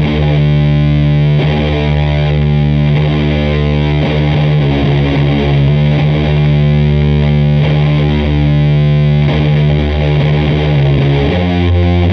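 Heavy distorted electric guitar riff in a low drop tuning, sweetened by a Phase 90 phaser swirl, playing a dark harmonic-minor figure for a song; loud, dense and continuous with steady chugging attacks and no voices.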